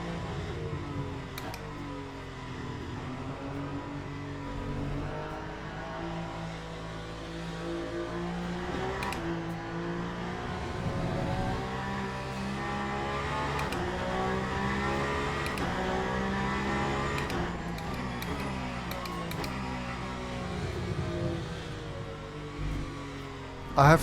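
Peugeot hypercar engine in the racing game Le Mans Ultimate, a steady flat-toned drone revving up and down continuously with shifting harmonics, with a voice talking over it at times.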